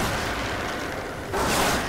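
Grenade blast in the video game Destiny, a sudden loud burst about two-thirds through that follows a steady hiss of game noise and then rolls on as a noisy wash to the end.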